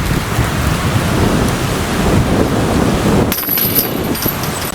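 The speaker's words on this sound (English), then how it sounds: "It's super windy." Loud, rough wind buffets the microphone on a golf course in a continuous low roar, easing off near the end as some faint higher tones appear.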